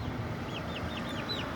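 Brahma chickens cluck in a series of short, repeated calls against a steady background hum, with no one speaking.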